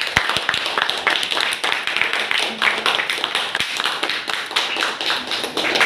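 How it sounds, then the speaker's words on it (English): A round of applause from a classroom audience at an intra-class debate competition, quick close hand claps forming a lively, uneven patter that lasts several seconds. "Give the big round of applause."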